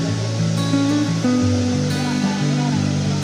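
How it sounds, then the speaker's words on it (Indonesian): Mandin Kahung waterfall on Mount Kahung in Kalimantan roars as a dense, constant rush of falling water, loud and close, with a voice faintly audible beneath it. "kami pun sampai di air terjun Mandin Kahung"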